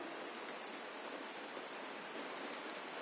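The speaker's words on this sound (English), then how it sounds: "This is the sound of rain." Steady rain in a video game, a dense, even hiss of falling water that stays constant and soft for the whole stretch, with no voices or other sounds over it.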